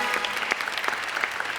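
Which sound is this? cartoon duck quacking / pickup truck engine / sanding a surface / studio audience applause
studio audience applause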